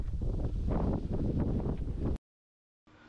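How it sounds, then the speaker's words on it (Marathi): Cold November wind gusts near the Mengai temple on a hill-fort trail, a dense, roaring buffet against the microphone that cuts abruptly to silence before a faint rush returns. "नोव्हेंबरची थंडी आणि झोंबणारा वारा."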